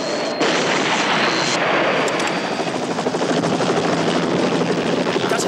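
A helicopter's rotor thumps rapidly and loudly overhead, a continuous beating chop with a broad roaring wash.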